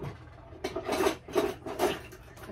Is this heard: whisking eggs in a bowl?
yes